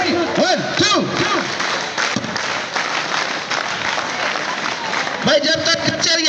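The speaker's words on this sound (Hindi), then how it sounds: "जोरदार क्लैप है" Audience clapping steadily at a prize distribution ceremony, a dense sustained applause from a crowd, with a voice speaking over it at the start and near the end.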